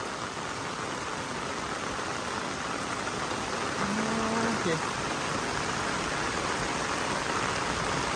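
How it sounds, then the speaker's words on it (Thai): Heavy rain pours during a storm on a road that is washing out, a dense steady hiss throughout, with a brief faint voice partway through. "ฝนตก"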